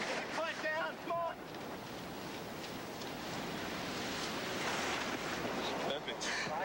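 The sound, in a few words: race boat speeding through ocean waves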